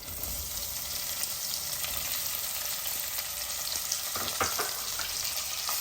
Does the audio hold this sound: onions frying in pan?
yes